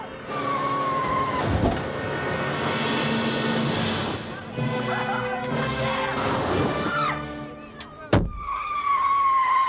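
A runaway bus with no driver careens along, with engine noise, crashes and smashing impacts, a skid, and a sharp bang near the end, loud and chaotic with tonal music or shouting mixed in.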